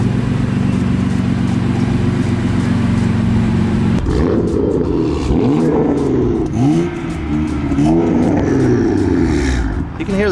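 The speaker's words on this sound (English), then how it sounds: "You can hear the turbo so good." A BMW M3 F80 with its turbocharged engine runs steadily for the first seconds, then revs repeatedly in rising and falling sweeps. The engine is close and loud, and people talk over it.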